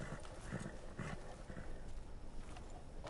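Clip-clop of a ridden horse's hooves in a video game, a steady repeating trot heard fairly close, with faint background game sound and no talk.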